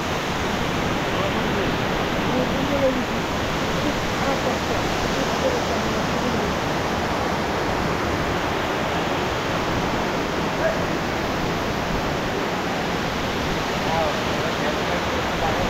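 Soinggong waterfall in Thanchi, Bandarban, Bangladesh, gives a steady, dense roar of falling water that stays loud and unchanging throughout, with no distinct voices.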